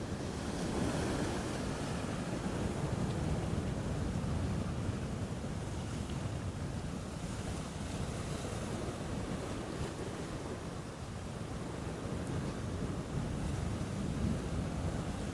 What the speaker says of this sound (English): Just look how this water is boiling up here and pulling back.